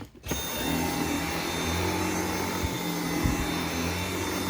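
A Dyson V7 cordless vacuum cleaner switches on and runs with a steady, dense whirring drone and a thin high whine, close and constant, with a couple of faint bumps from the floor head.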